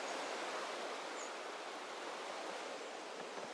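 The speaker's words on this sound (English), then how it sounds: "this is the Louisa River" Louisa River flowing beside a camp on the South Coast Track, a steady even rush of water at moderate distance with no other sounds.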